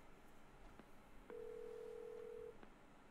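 A phone call being placed in the video game Marvel's Avengers: a single sustained ringback tone holds for about a second amid faint background ambience, with soft clicks before and after.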